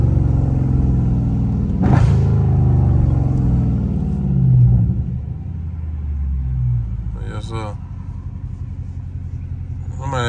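A Dodge Scat Pack's exhaust burbles and rumbles during hard low-gear pulls: a deep, loud, continuous engine rumble swells around the middle of the run, then settles into a steady lower drone.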